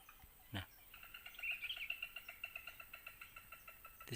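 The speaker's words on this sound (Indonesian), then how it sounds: "itu suara burung bubut ya teman-teman." A coucal calling in forest, a faint series of evenly spaced hollow hoots repeating steadily after a brief louder knock, distant and alone without talk.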